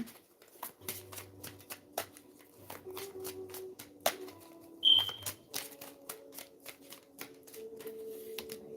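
A deck of tarot cards being shuffled by hand, repeated close riffling and slapping bursts in an uneven rhythm, with a faint electronic beep and low background hum.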